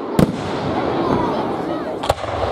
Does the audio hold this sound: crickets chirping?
no